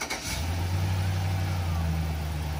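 Truck engine idling after 4.56 gears were installed, starting up with a burst and then settling into a loud, deep, steady rumble close by.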